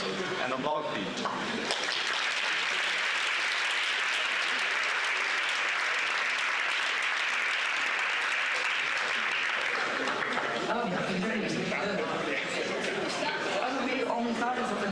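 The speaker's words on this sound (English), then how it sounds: "And applause, please." Sustained applause from the audience at the opening of the Integration Bee Vienna university event, honouring the event organizer, a loud, steady crowd clapping that continues for several seconds with chatter as it winds down.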